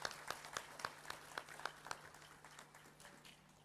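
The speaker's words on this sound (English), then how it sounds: "let's take this moment to highlight our graduates with a round of applause" An audience at a training-centre graduation ceremony applauds its graduates, a faint, distant round of clapping with a few sharp, regular claps standing out early before the sound thins and fades.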